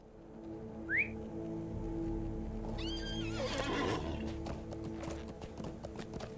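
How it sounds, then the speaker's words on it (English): A horse in the video game LOTRO whinnies and then sets off at a gallop, with quick rhythmic hoofbeats carrying on over soft ambient game sound and a brief whistle-like call. "Go, my trusted steed, go!"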